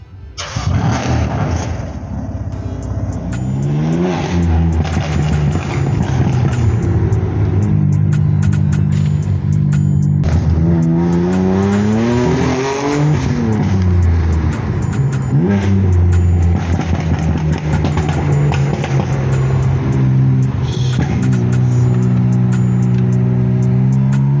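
A tuned BMW M4 with an inline-6 and a stage 2 Philosophy Tuning setup making about 789 hp starts up and revs hard. Repeated loud climbing revs sweep up and fall back, then it settles into a rumbling idle.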